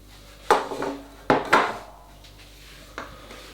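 Cake tins for a triple lemon cake are handled and set down on a counter, with three or four sharp metallic knocks and scrapes separated by short pauses.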